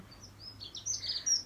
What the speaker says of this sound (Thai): ฟังเสียงเพลงจากนกร้องเพลงให้ฟังไง